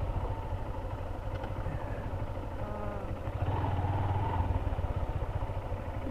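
A motorcycle riding along the Sylhet–Bisanakandi road, its mid-pitched engine droning steadily with road rumble and light rattles, swelling a little louder partway through.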